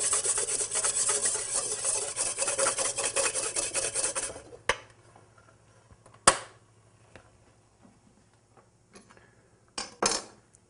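A whisk scrapes rapidly and continuously against a stainless steel bowl while whipping hollandaise sauce, then stops, leaving a few scattered clinks and taps.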